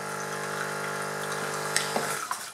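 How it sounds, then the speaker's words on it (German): A Cremesso Compact One capsule machine runs a rinse with no capsule inserted. Water streams steadily into a cup beneath it over a constant pump hum, with a few small clicks and splashes as the flow tails off. "Dann stellt man einfach irgendwas unter und spült das einmal kurz durch, ohne Kapsel."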